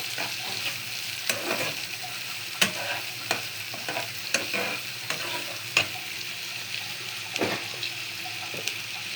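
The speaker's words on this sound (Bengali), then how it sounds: "একটু ভাজা ভাজা হোক, পেঁয়াজটা একটু নরম হলেই সব মশলাগুলো দিয়ে দিব" Sliced onions frying in oil in a pan, softening before Bengali spices go in, with a steady close sizzle and repeated spatula scrapes and stirs tapping the pan throughout.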